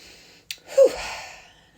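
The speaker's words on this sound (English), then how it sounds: "Nice big inhale through the nose, out through the mouth." A single deep breath drawn in through the nose and released through the mouth during a calming exercise, soft and close, with a brief sharp intake followed by a longer airy exhale.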